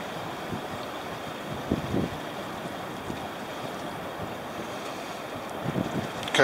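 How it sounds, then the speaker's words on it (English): Wind and surf roar continuously on a windy, rainy day at the Oregon coast near Newport, with heavy wind buffeting the microphone and a few slightly louder gusts or wave surges breaking through the steady rush. "nasty, windy, rainy day"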